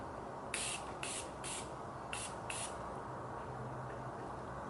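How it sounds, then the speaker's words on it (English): Five short hissing bursts of Morphe makeup setting spray, the first three in quick succession and the last two after a pause, faint over a steady background hiss. "I'm gonna go ahead and use the Morphe setting spray"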